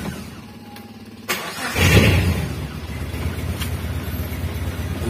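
A Suzuki Futura T120SS van engine starts up and settles into a steady mid-pitched idle, preceded by a quiet hum and a sharp click, heard close with no talking.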